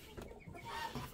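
A hen in a bantam chicken coop gives a few soft clucks, close but faint, short and irregular within a quiet space.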